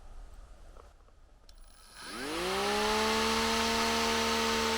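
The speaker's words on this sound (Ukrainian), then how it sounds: "Якщо нажимаєте потихеньку, то потихеньку будуть крутитися ножі або шпуля" A VITALS AZT 3605 battery grass trimmer spins up from quiet to a steady low-speed whir, its rising motor tone settling into a constant hum with bright harmonics, held alone and close.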